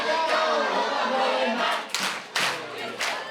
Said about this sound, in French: Voilà, on peut encore les applaudir toutes et tous.